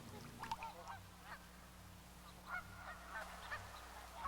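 Trumpeter swans give a series of faint, distant honking calls over a steady low background hum, with the calls spaced irregularly.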